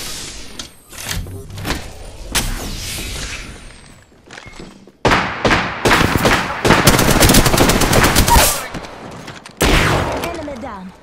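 Bursts of gunfire from the battle royale game Apex Legends, with rapid automatic volleys and sharp single shots, loud and close, separated by brief gaps and a pause in the middle.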